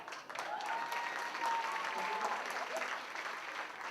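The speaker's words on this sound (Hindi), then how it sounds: "उनके लिए तालियां" Audience at a Bollywood celebrity charity event for children fighting cancer applauds steadily for a doctor, a dense, even wash of clapping that carries through the whole moment with faint voices mixed in.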